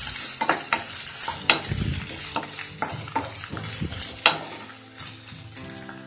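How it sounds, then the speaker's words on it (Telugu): Thinly sliced onions and green chillies frying in oil in a pan, a steady close sizzle broken by several sharp scraping stirs and clatters, loud and with no talk. "దీంట్లోకి సన్నగా పొడుగ్గా తరిగిన ఉల్లిపాయలని 1 కప్పు యాడ్ చేసేసుకొని ఇవి కూడా లైట్గా సాఫ్ట్ అయ్యేదాకా వేయించుకుందాము"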